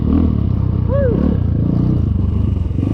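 An Apollo 250RX dirt bike rides a bumpy outdoor trail, its engine droning loudly and steadily under rattling, clattering chassis noise and rushing wind.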